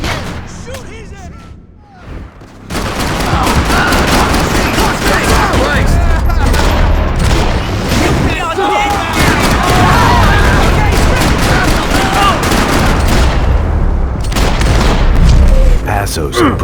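Gunfire in the video game Max Payne 3, with dense, loud volleys of shots and booms that start after a brief quieter moment and keep going almost without break, under occasional in-game voices.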